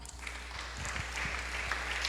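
A church congregation claps in a short burst of scattered applause, fairly faint and diffuse, over a low steady hum.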